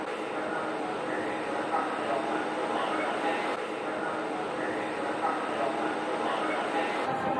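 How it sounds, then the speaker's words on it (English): A steady rumble of a Magic Kingdom monorail train running along its track, continuous and fairly close, with a faint high whine throughout and indistinct voices mixed in. "How cool is that? 1971 monorail action."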